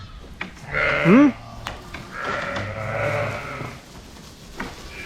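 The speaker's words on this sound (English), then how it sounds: "so we've got 3 interested ewes here" Ewes in a lambing barn, one clear wavering bleat up close, with rustling straw and movement around it.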